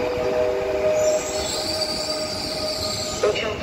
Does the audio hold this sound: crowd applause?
no